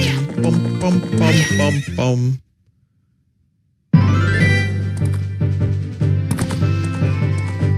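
Horse neighing in the video game The Legend of Zelda: Ocarina of Time 3D, loud whinnying mixed with game music at a ranch, cutting to silence for over a second before music and sounds resume.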